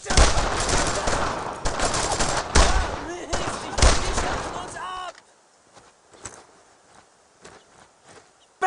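Heavy gunfire from the World War II video game Brothers in Arms: Road to Hill 30, with dense rapid machine-gun bursts and rifle shots for five seconds, then sparse distant shots and footsteps while soldiers' voices shout in the background.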